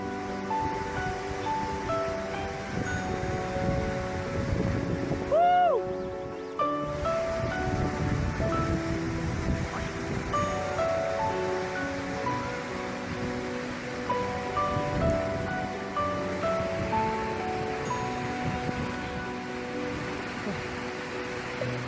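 Rushing water at the Pombaraknia waterfall in cold weather, a loud continuous broad roar with wind buffeting, steady throughout, with people talking faintly over it at times.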